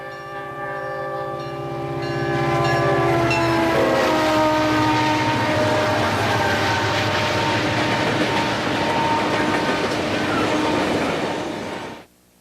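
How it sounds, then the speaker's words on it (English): Norfolk and Western SD45, C36-7 and SD35 diesel locomotives leading a westbound coal train at Hebron east of Crewe, the horn sounding as the engines approach and roar past loudly, followed by rumbling cars before cutting off. "SD45 number 1722 with a C36-7 and an SD35 team up on a westbound coal train."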